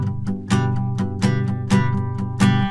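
Guitar strummed with an FX2 thin double pick, regular chord strokes roughly every half second with sharp, bright, clicky attacks over sustained ringing strings, close and alone.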